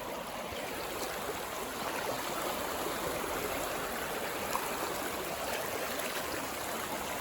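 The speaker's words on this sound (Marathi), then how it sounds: "आता आम्ही पाण्यातून जात आहे" People wade through a shallow stream in Goa, the steady rushing and splashing of water continuous and fairly close throughout, with no voices over it.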